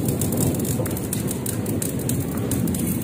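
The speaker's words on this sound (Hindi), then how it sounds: "तो ये देखें प्यारे बहन, बारिश हो रही है" Heavy rain pours outdoors under clouds near an overhead transformer, a dense, loud, steady hiss and patter that fills the whole moment without a break.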